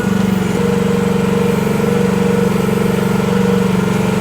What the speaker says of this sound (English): You don't need to run this little gas machine at full power either. I've got it at like maybe half throttle.